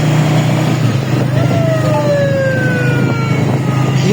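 An emergency siren wails over a bridge where people are stopping, its rising and falling tone sweeping above steady traffic rumble and crowd noise, with voices talking throughout.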